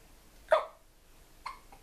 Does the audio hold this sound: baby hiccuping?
yes